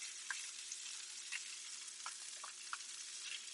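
Buttered brioche toasting in a pan, a quiet, steady sizzle with a few soft clicks and scrapes, heard alone without voices.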